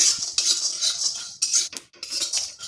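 A metal spoon scrapes and clinks against a pan in steady stirring strokes while roasting ginger pieces for methi shaak, loud and close, with brief pauses between motions.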